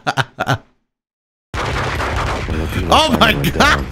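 Gunfire in the Max Payne video game, a dense burst of rapid shots roaring loudly after a few short sounds and a moment of silence, with a voice partly mixed in.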